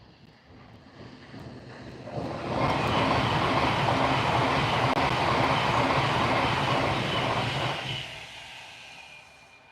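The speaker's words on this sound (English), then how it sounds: "there's a Pendolino coming in a minute" An Avanti West Coast Class 390 Pendolino, London Euston to Glasgow Central, passes close by with a loud sustained roar and rumble that swells quickly, holds for several seconds, then fades, with some wind noise on the microphone.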